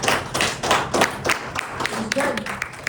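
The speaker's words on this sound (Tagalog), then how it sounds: "Sige, una po tayong palakpak sa ating Panginoon." A church congregation clapping during a Sabbath service, a burst of uneven hand claps with thumping beats, fairly close, and voices and a short sung or spoken tone audible underneath.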